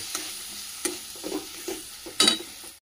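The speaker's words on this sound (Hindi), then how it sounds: "टमाटो को दे दूसरी टमाटो को भल कषिदबा पिटला जाए पूरा" Tomatoes sautéing in a spiced masala of cumin, coriander, turmeric and chili powder, with a soft sizzle and several scraping stirs of a spoon in the pan at uneven intervals, close by and without speech.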